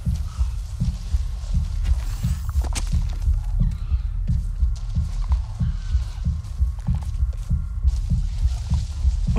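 Loud, close heartbeat in Avatar: Frontiers of Pandora, pounding in a steady rhythm of paired thuds over a low throbbing hum, with light game ambience and no talk.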